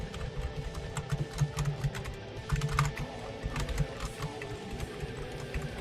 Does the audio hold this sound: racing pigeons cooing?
no